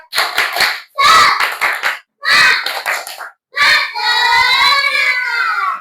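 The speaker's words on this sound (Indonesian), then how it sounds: "kita tepuk semangat ya" A classroom group performs tepuk semangat, bursts of rhythmic unison clapping broken by short pauses and mixed with chanting voices, ending in a sustained sung or shouted phrase.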